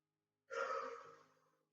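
Single deep inhalation during a postural gym exercise, a close, clear breath in that swells quickly and then fades over about a second, followed by the start of another breath, with no talking.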